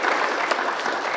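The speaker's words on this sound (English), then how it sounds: "Big round of applause for the creator of all of this." Audience applause at a film festival Q&A session, a dense, steady burst of clapping from the crowd that holds evenly through a short stretch.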